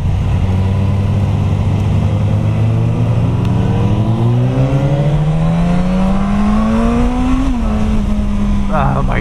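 A Suzuki GSX-S1000F motorcycle accelerating on a public road toward 70 mph, its engine tone climbing steadily in pitch beneath heavy, constant wind roar, then briefly easing near the end.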